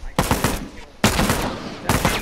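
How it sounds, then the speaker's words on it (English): Bursts of rifle fire from a burst-fire gun in The Last of Us multiplayer, two rapid clusters of loud shots separated by a short pause, then a third burst starting at the end. "You're just standing back and shooting with your bursty rifle."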